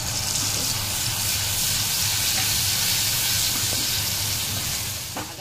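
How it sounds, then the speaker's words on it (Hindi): Asafoetida and a ground spice paste sizzle in hot oil for a spicy kachri and green chilli sabzi, a steady close hiss and crackle that holds evenly throughout with no talking. "उसी तेल में मैं थोड़ा सा हींग डाल दे रही हूँ और ये जो मैंने मसाला पीस के रखा था उसे डाल देती हूँ"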